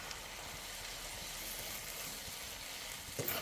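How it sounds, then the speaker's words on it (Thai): Pork neck stir-frying in a pan with oyster sauce, sugar and seasoning powder for a dried-chili stir-fry: a steady, close sizzle with soft scraping of the spatula and one brief clatter near the end, no voices. "ผัดทุกอย่างให้ละลายเข้ากันให้หมดเลยครับ"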